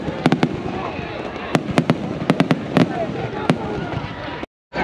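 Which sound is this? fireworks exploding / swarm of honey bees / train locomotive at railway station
fireworks exploding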